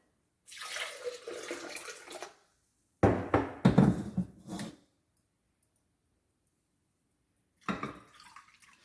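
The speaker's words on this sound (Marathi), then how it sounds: "याच्यातच ऍड करते जरा पाणी।" Water is poured into a bowl in three separate splashy bursts, close by, with short silences in between and no talking.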